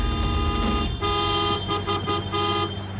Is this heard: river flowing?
no